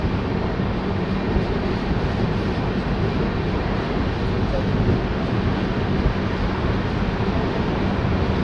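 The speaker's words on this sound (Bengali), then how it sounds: "প্রায় ভোর 4টের সময় ট্রেন এসে পৌঁছালো ব্রহ্মপুর স্টেশন।" Digha-Visakhapatnam Express pulling into Brahmapur station around 4 a.m., a steady, loud, continuous rumble of rolling rail cars with faint voices underneath.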